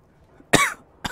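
A person coughs loudly twice up close, a longer harsh burst followed by a shorter one after a brief pause, with no other sound around them.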